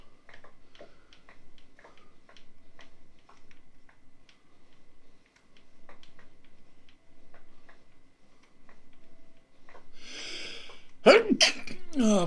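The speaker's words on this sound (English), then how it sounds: "I'm gonna sneeze." A single loud sneeze bursts out near the end, after quiet ticking and soft indoor sounds during a Minecraft building session.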